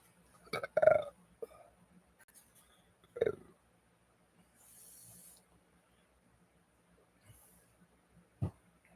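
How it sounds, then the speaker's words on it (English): A man belches several times after taking a morning pill on an empty stomach: a loud, deep burp first, then a second strong one and a short final belch, close up with quiet gaps. "Belching my morning pill,"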